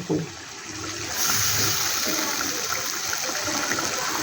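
Water poured into a cooking pot holding ground cashew, melon seed and raisin paste, a steady close pouring rush that swells after the first second and runs on evenly to the end.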